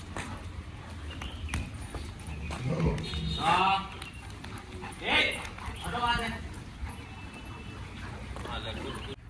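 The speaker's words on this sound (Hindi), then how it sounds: "बार बार गुर्रा गुर्रा के देखो, और इसके दौरान ये भी गुर्रा रहा है उसको।" Pet dogs confronting each other with repeated growls, yips and whimpers in short bursts, while someone talks over them.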